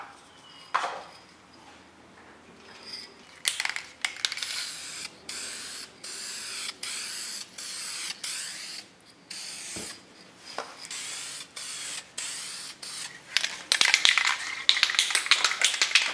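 An aerosol spray can applying paint in repeated bursts of hissing, some short and some sustained, loud and close, with brief pauses between passes and no talking.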